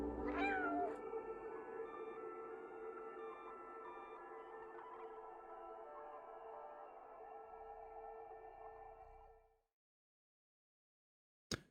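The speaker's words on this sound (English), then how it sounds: "They could have just stopped at giving you the ability to meow on command, but they didn't." In the video game Stray, the playable cat gives a short rising-and-falling meow at the start, then a sustained electronic ambient tone holds steady before cutting to silence and a final click.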